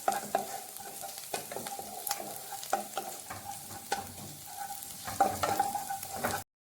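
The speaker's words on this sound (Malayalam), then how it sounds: "2 അല്ലി വെളുത്തുള്ളി എടുത്ത് ചെറുതാക്കി ഇതുപോലെ അരിഞ്ഞിട്ട് ഇതിലിട്ട് കൊടുത്ത് വറക്കാം." Chopped garlic, two cloves, fries and sizzles in a pan while being stirred for a green gram curry, with steady crackling and repeated spoon scrapes against the pan, close and clear, ending abruptly.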